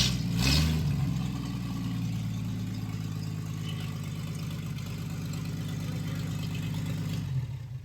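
A 1937 coupe's Stovebolt 216 inline-six idles steadily just after its first start, a low, even rumble held close throughout, with a brief rise in revs at the beginning.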